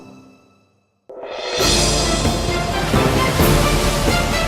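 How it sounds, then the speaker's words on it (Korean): A fading tone drops to near silence, then rough sea waves surge in abruptly and build into a loud, continuous roaring wash that holds steady to the end. "거친 파도가 휘감아도는 모습입니다"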